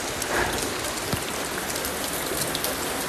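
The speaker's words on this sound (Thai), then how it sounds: "ฝนตกหรอ ใช่ ฝนตก" Steady rain pattering on a surface, a dense, even hiss of drops continuing throughout with no voices.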